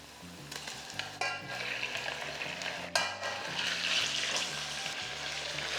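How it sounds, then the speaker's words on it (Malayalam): One kilogram of chicken fries on high flame in a pan with light-brown onions, giving a continuous close sizzle with stirring scrapes and clatters on top. "ചിക്കൻ ഒന്ന് ചെറുതായിട്ട് കളറൊന്ന് മാറണം, അതുവരെ ഹൈ ഫ്ലെയിമിലിട്ട് കുക്ക് ചെയ്യാം"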